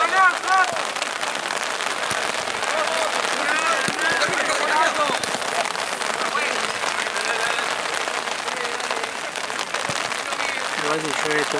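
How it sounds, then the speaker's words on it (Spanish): Heavy rain pours steadily onto a football pitch during a Copa Libertadores match, a dense continuous hiss of drops on the surface, loud and unbroken throughout. "Igual si llueve todo el tiempo así, con esta intensidad, capaz que van a empezar a formar lagunas más tarde."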